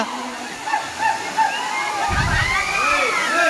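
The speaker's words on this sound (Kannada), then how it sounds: "ಇಲ್ಲಿ 100 ಫೀಟ್ನಿಂದ ನೀರು ಬರ್ತಾ ಇದೆ." A steady roar of Kailasakona waterfall, dropping about 100 feet in Chittoor district, Andhra Pradesh, fills the scene up close, with faint voices and a brief low thump.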